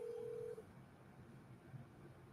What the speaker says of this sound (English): So I make a phone call here.